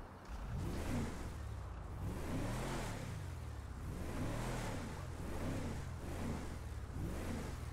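A Ford Endeavour SUV engine in GTA 5, driven with a Logitech G29 wheel and shifter, hums and revs steadily, rising and falling in pitch through repeated throttle swells, loud and close with no talk.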